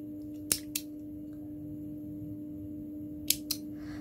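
Scissors snip through yarn for a crochet Christmas ornament wreath, two quick double-clicks of the blades separated by a quiet pause, close and crisp.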